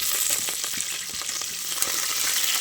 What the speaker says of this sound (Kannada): ಅದಾದಮೇಲೆ ಈರುಳ್ಳಿ ಹಾಕ್ತೀನಿ ಫ್ರೈ ಆಗಬೇಕು